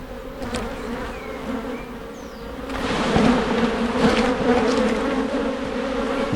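Honey bees from a brood-box frame being shaken during a hive inspection give a dense, loud buzzing that swells as the frame is shaken and stays heavy after.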